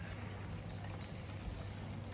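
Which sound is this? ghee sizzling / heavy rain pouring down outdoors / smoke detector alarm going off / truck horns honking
heavy rain pouring down outdoors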